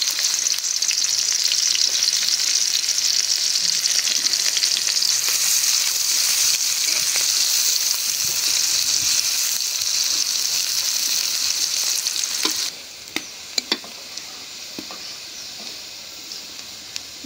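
Chopped onions sizzle and spit in hot soybean oil in a wok, a loud, dense frying hiss for about twelve seconds before it settles lower, with a few sharp crackles and pops.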